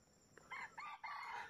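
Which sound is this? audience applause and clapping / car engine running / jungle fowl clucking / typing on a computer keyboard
jungle fowl clucking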